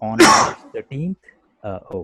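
A person gives one sharp, harsh cough-like burst up close, and speech follows immediately in short phrases.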